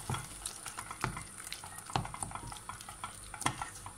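Sauce of tomato paste cooking in a pan, a quiet bubbling sizzle with regular stirring scrapes every half second or so, faint and close with no talking.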